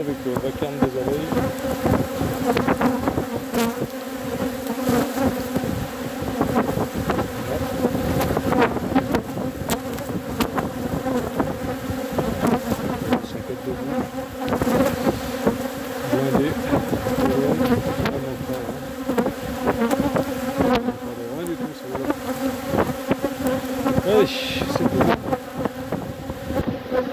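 A loud, dense swarm of bees buzzes continuously, a thick droning hum with many overlapping wings close by.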